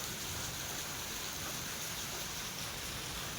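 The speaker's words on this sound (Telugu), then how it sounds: "ఏం వర్షం అబ్బా, సూపర్గా పడుతుంది" Heavy summer rain pours down as a steady, dense hiss with no breaks, fairly faint and even throughout, with nothing else rising above it.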